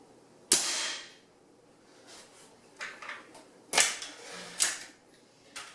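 A Benjamin Trail XL .22 caliber air rifle fires, with sharp, loud snapping shots, one near the start, then two more close together later, separated by quiet clicks and handling sounds.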